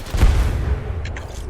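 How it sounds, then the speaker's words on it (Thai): Grenade explosion in the video game Apex Legends during a ranked match: one sharp, heavy boom near the start that decays into a rumbling tail, followed by faint higher game effects. "ปาระเบิดไปแล้ว"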